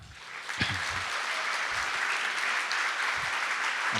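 Audience clapping at a programming conference talk, a fairly faint but steady patter of many hands that builds up in the first half second and continues evenly, with a few soft voices underneath.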